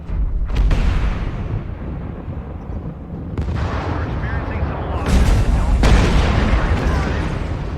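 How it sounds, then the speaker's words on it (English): Rumbling missile blasts and booming impacts in a MechWarrior Online mech battle, loud and continuous with sharp bursts near the middle and end, under a faint voice. "Incoming missile"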